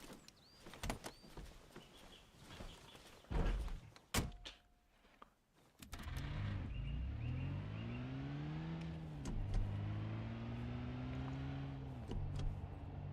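Car driving in Arma Reforger, a steady engine drone with rising and falling pitch as it accelerates and shifts, preceded by door thunks and clatter, continuous and fairly loud without talk.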